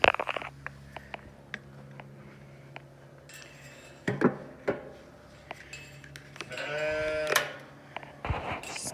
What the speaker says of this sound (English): Bad sheep.